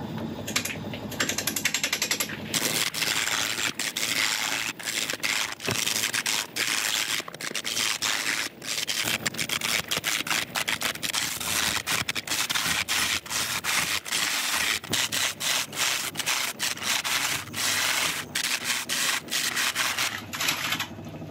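Rapid rough scraping and chattering of a gouge cutting oak on a woodturning lathe, loud and continuous with dense choppy bursts and brief breaks at the start and end.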